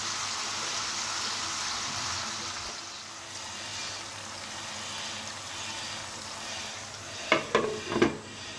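Chopped tomatoes drop into hot oil in a pan, giving a steady soft sizzle and frying hiss with a few louder stirring scrapes and splutters near the end, no talking.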